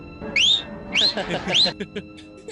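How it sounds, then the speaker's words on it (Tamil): Loud rising wolf-whistles from a man, three sharp bursts repeated in quick succession, in a Tamil film scene where someone teases a young woman sitting alone; background voices and noise beneath. "என்ன பெரிய ரவுடி மாதிரி விசில் அடிக்கிற? இன்னொரு வாட்டி அடி."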